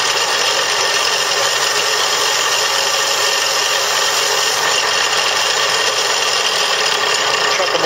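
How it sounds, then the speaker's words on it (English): A drill press hums steadily and loudly with a light rattle, running continuously without pause. "chuck them up in the drill press"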